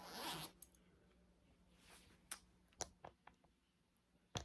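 A zipper on a black crochet purse is drawn in a quick rasping pull at the start, followed by several sharp clicks and taps of the zipper pull and hardware, close and quiet.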